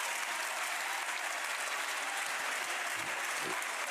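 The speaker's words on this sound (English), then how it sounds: "The crowd loving it." An indoor pickleball crowd at a national championship match applauds steadily, a dense, even wash of clapping that fills the whole stretch with no talk.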